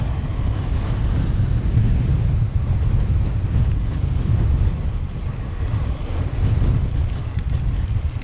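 Heavy, constant wind buffeting the microphone while cycling, a loud low rumble with no breaks, as if riding into a strong breeze.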